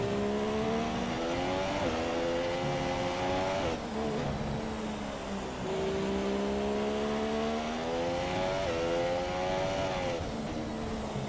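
A Formula 1 race car engine in F1 2017, racing at the Spanish circuit, screams at high pitch without a break, climbing through the revs and dropping briefly at each gear change.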